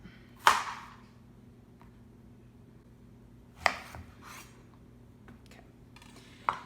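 A knife chops through zucchini and yellow squash on a cutting board, three separate sharp cuts spaced a few seconds apart over a faint steady background hum, close and fairly quiet.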